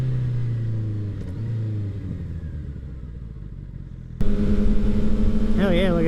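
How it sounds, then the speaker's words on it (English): A motorcycle with an Akrapovic exhaust idles loudly, then abruptly opens up into a louder, rising rev near the end; a voice can be heard over the engine. "Akrapovic exhaust sounds so good."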